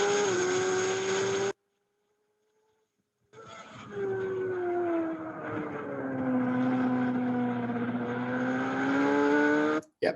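Motorcycle ridden by a pro rider on a track, accelerating at wide open throttle out of a corner, engine pitch climbing and holding loud and close after a brief silent gap, with no talking.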